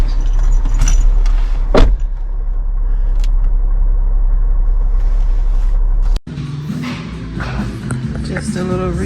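People climb into a truck, with keys jangling, doors thudding and the idling engine rumbling loud and close, followed by a sharp cut to quieter cabin sounds and a muffled voice.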